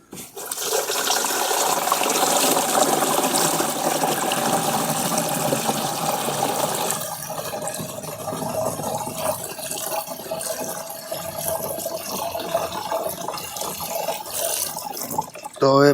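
Liquid jivamrut, about two litres, is poured into a spray pump tank, producing a continuous loud splashing gush that softens midway into a steadier trickle.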